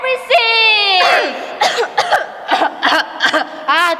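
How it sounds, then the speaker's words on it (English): Children in a school English reader's theater performance act out coughing and sneezing, voicing a run of sharp, repeated coughs after a stretch of chanted vocal sounds, close and fairly loud. "Sneeze and cough."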